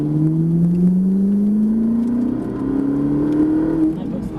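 A Ferrari 458 Italia pulls hard out of a corner on the Dreux race circuit, its engine note climbing steadily in one long, loud rising sweep heard from inside the car before it eases off near the end.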